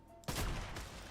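A bolt-action sniper rifle fired in Fortnite, a single loud sharp shot after a brief quiet moment, followed by a decaying rumbling tail.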